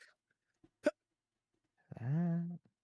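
A short, sharp sneeze bursts out in a quiet room, followed a moment later by a drawn-out voiced sound.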